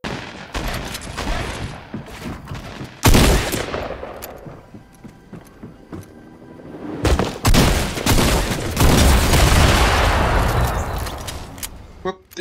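Rapid bursts of gunfire in a Fortnite match, with repeated loud shot volleys, sharp booms and dense rattling fire through much of the stretch, and a voice talking at times beneath the shooting.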